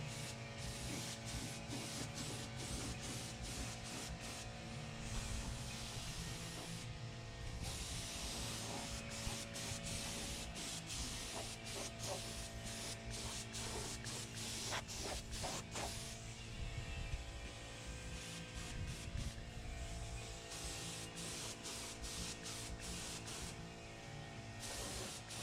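A spray gun lays paint onto a project Camaro in a steady, continuous hiss, with brief pauses and restarts between passes, fairly close and with no talking.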